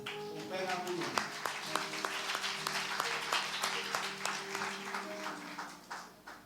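A church congregation at a French-language sermon claps and cheers steadily, a rapid sustained applause at moderate distance, with a voice speaking over it.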